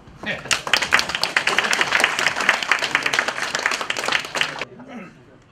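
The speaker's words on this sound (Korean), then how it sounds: "박수 쳐라" An audience at a patriotic lecture marking the 70th anniversary of Korea's founding breaks into dense, lively applause. It holds steady for about four seconds, then stops abruptly.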